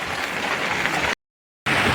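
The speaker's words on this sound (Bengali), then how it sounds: "বাইরা প্রচুর বৃষ্টি হচ্ছে" Heavy rain pours down outdoors during a storm near a fishing spot, a dense steady hiss of falling water that cuts out abruptly for a moment before resuming just as loud.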